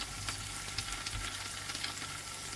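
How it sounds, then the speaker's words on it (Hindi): Green coriander stirred into a sizzling tadka for dal, a dense continuous crackling sizzle with light stirring scrapes, close and steady throughout, no speech. "अब मैं इसके अंदर थोड़ा सा हरा धनिया डालूंगी और इसको मिक्स करूंगी"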